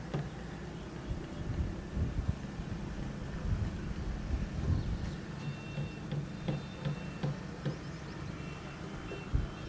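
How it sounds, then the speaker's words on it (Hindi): Steady low rumbling wind buffeting the microphone throughout, with gusty surges and faint background noise; no voices. "शायद मेरी ऑडियो में नॉइज़ आ रही होगी, तो यहाँ पर तेज़ हवा है"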